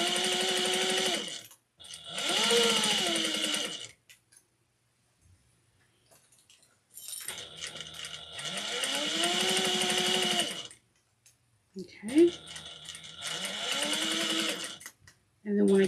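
A sewing machine runs in several separate bursts of a few seconds each, stitching a long seam on a fabric wristlet, with short pauses between bursts, close and fairly loud.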